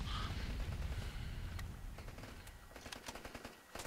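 Gunfire in Rambo The Video Game rattles as dense continuous rapid shots behind a booming low rumble, then breaks into sharper separate cracks near the end, fairly quiet overall.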